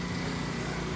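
A 2020 McLaren 720S Spider fitted with a Ryft titanium exhaust runs with a steady, loud, buzzing engine drone that fills the whole moment, with no talk over it.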